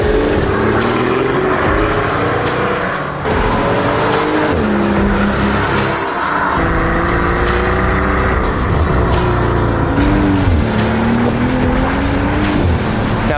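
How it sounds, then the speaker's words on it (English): A rare, highly optioned Mercedes-Benz S65 AMG Coupe with a 6-litre bi-turbo V12 drives past, its engine loud and close as it rises and falls through gear changes and revs, with a brief tire squeal. "driving this extremely rare and highly optioned Mercedes-Benz S65 AMG Coupe"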